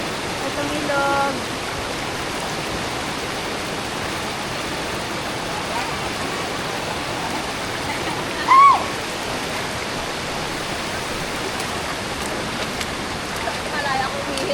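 Broadband rushing of a river flowing steadily on Mt. Victoria, a constant wash of water at close range with a brief louder splash partway through.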